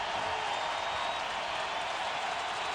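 A packed NFL stadium crowd at a 2006 week 17 Patriots–Titans game roars in a steady, dense wash of cheering that holds at an even level throughout, with no single voice standing out.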